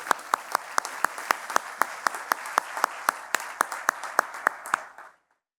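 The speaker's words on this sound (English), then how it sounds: "A round of applause for ThriveWell staff" Audience at a cancer foundation luncheon claps in brisk, even rhythm, a moderate room-filling applause with distinct individual claps that stops abruptly near the end.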